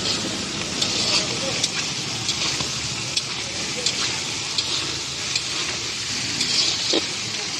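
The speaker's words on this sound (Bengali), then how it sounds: "এইটাকে হালকা হালকা ভাজবো।" Potato and ridge gourd fry lightly in a pan with a steady close sizzle and occasional stirring scrapes, and a voice speaks now and then.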